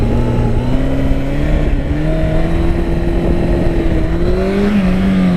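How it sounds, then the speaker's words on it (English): A Honda CB1100 motorcycle engine drones steadily at low revs under light throttle while the rider comes out of a wheelie, pitch rising gradually, loud and close with wind rush. "that was a good example of being able to kind of throttle out of it and bring the front wheel down softly"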